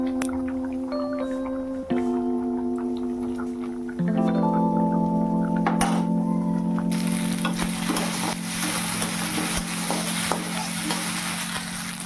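Whole cumin, bay leaf and dried chilli tempering in hot oil for dal, a steady sizzle that swells into a louder, denser crackle partway through, with light stirring and no talk.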